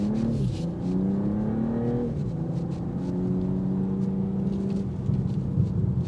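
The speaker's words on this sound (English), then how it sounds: "Those cracks and pops sounding like an AK-47, it's awesome." A 2025 BMW M340i accelerates hard with a rising engine drone that climbs through gear shifts, heard from inside the cabin with a steady rumble underneath and a few faint crackles from the exhaust near the end.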